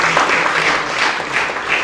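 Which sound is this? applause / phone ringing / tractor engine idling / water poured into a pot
applause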